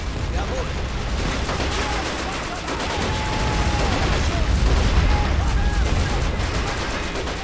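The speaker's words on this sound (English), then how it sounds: "Told all these troops to throw AT grenades." Anti-tank grenades and gunfire in a World War II battle at Stalingrad in Men of War: Assault Squad 2, a dense, continuous roar of explosions and shooting with a voice talking underneath.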